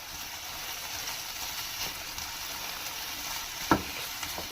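Capsicum and onion sauté with chicken, a steady, moderate hiss of frying with one sharp clank of a utensil near the end.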